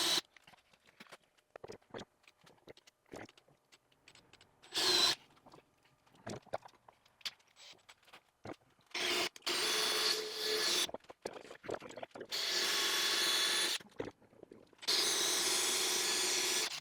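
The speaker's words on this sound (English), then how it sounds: "To cut out the mortises, I'm using a drill with a 90-degree attachment with a Forstner bit in the chuck." A drill fitted with a 90-degree attachment and a Forstner bit cuts mortises into wood for a workbench, in several separate whirring bursts of a few seconds each, with quiet handling noises between them.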